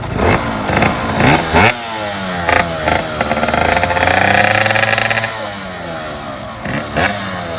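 A motorcycle engine warming up, revving in repeated bursts and then holding a steady higher idle at close range, with brief clattering and no talk over it.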